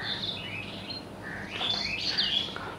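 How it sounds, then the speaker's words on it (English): Birds chirping in a forest at sunrise, several overlapping high tweets and short trills at moderate distance, steady and alone with no voices. "birds chirping melodiously"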